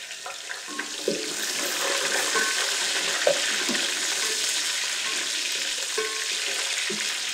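Ginger and green chilies are dropped into onions frying in oil and give off a moderate, even sizzle. Light stirring clinks and scrapes occur now and then, close by and without speech.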